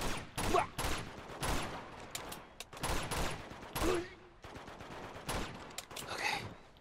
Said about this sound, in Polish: Oni ciągle strzelają jeszcze.